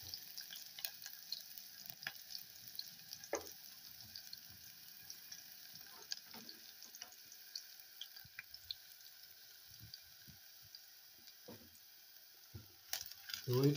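Onions frying in a pan for a wet-fry kienyeji chicken dish, a soft steady sizzle with scattered pops and crackles throughout, fairly quiet and with no voices.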